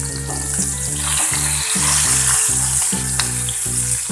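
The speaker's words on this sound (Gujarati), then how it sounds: "બધા જ ગુંદા એકદમ સરસ રીતે તેલમાં તળાઈને તૈયાર થઈ જશે" Gunda (lasoda) berries fry in hot oil for sambharo, a steady dense sizzle with a rhythmic stirring pulse running throughout, close and loud, with no voices.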